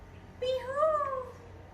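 A human voice imitates a peacock call, one rising and falling wailing cry lasting about a second, close and moderately loud over a faint hum.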